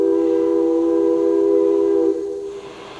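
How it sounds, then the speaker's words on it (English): A railroad whistle sounds loudly as one sustained, steady multi-tone blast for about two seconds, then cuts off and trails into fading rumble, with no voices. "Listen to the whistle on a steam locomotive, then listen to a diesel."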